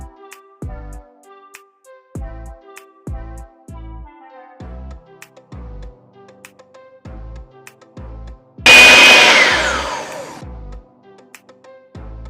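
An electric mixer creams butter and sugar for a lemon pound cake. It whirs loudly in a single burst of about two seconds, set against a steady, rhythmic background beat that thumps before and after.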